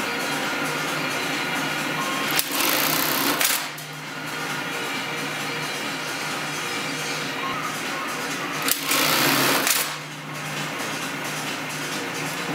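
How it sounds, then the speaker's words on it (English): An industrial bar tack machine stitches belt loops onto denim jeans, giving two loud, dense mechanical bursts of rapid stitching about a second long each, set against a steady workshop hum. "The bar tack machine is pretty aggressive."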